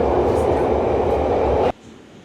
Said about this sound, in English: made it on the train now